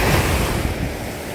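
Ocean waves surging and washing around bare feet at Myrtle Beach, South Carolina, a steady close rush of surf with some wind noise on the microphone, no voices.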